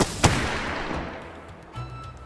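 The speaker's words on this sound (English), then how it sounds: "Cock the gun all the way. And you're ready to fire." A single muzzleloader rifle shot in the VR game H3VR, a loud close boom with a long rumbling, noisy tail that fades over about two seconds.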